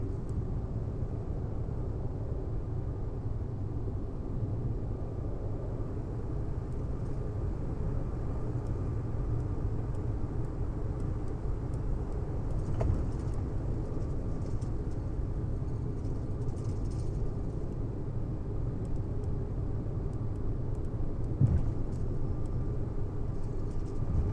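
An Avianca airliner taxis in Microsoft Flight Simulator 2024, a steady low engine rumble and broadband hiss holding constant throughout with only small swells, no voices.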